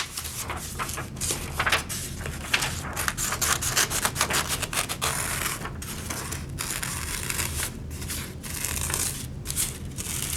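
Scissors cutting a drawn circle out of paper: continuous close rasping and crinkling with quick snipping strokes, fairly steady for about ten seconds, no voices.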